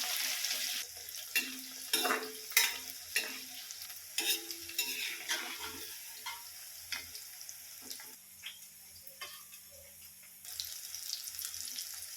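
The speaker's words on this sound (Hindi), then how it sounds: "उसमें हम थोड़ा थोड़ा पानी डाल के इसको मिला के अब इसको फ्राई कर लेते हैं।" Okra (bhindi) sizzles and crackles in hot oil in a village kitchen, stirred now and then with scraping clatters, over a soft continuous frying hiss.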